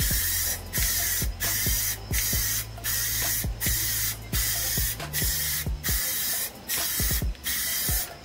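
Rust-Oleum Gloss Black spray paint hisses from an aerosol can onto a canvas in a run of about a dozen short, even bursts with brief pauses between them, close and loud, no talking.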